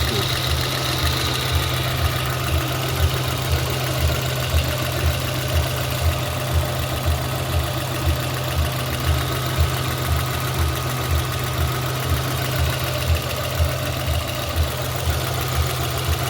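A VAZ 21083 1.5 petrol engine idles after a cylinder head repair, giving a steady, even, rhythmic low thrum that stays close and constant throughout with no talk.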